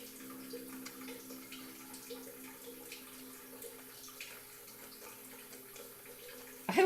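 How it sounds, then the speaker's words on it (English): Steady stream of water flowing outdoors in the background, a soft continuous wash with a faint gentle waterfall quality, low and even throughout. "I love the water stream sound behind us"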